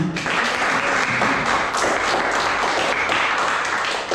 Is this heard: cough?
no